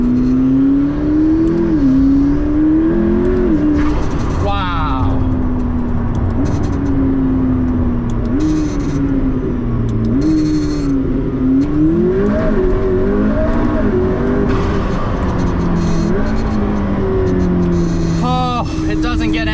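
McLaren P1 hybrid supercar with its engine revving and accelerating hard in repeated surges, a loud, close, rising roar that drops between gear changes, with faint chatter in the background.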